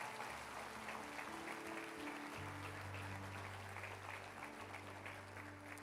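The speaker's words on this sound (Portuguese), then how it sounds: "Se é para Jesus, dê uma salva de palmas" Church congregation clapping during a sermon, a soft, steady patter of many hands heard at a distance over a low sustained musical drone.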